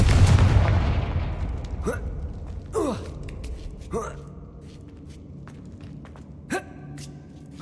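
The Confringo blasting spell goes off in Hogwarts Legacy with a loud, close explosion that booms and fades, followed by several quick whooshing spell sounds.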